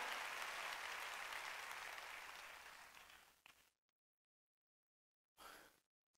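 A church congregation at a Sunday service applauds together, a loud sustained wash of clapping that fades out, then a short second burst after a pause of silence.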